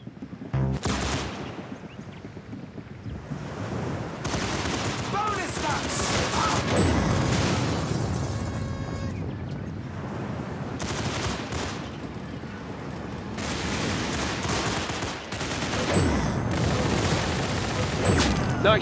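Gunfire rattles through a match of the Roblox shooter game Arsenal, with repeated bursts of rapid automatic shots and single cracks separated by short gaps over a busy game soundscape.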